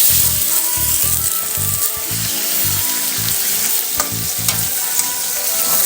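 Loud sizzling as chicken stir-fries with garlic in a hot pan over medium heat, with rhythmic scraping and stirring strokes repeating steadily throughout.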